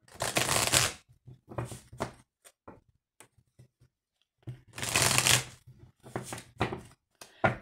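Oracle cards are shuffled in two bursts of dense, rustling riffles, each followed by scattered light taps and clicks as the deck is squared and cut, all close up and with no talking.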